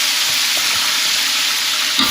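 Ginger and garlic sizzle steadily in a small amount of hot oil while cooking for an Arabic meat kabsa, producing a continuous, close crackling hiss with no talking.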